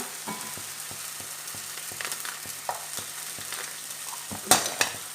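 Paneer cubes stirred and fried in a tawa pan for tawa paneer, a soft steady sizzle under regular scraping strokes of a spatula, with a brighter clink of utensils near the end.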